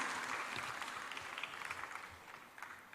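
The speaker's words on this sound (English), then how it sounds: "Ladies and gentlemen, another round of applause for the Action Compact." An audience at the Africa Prosperity Dialogues conference in Accra, Ghana, gives a round of applause. Steady, fairly full clapping fills the hall and tapers slightly toward the end.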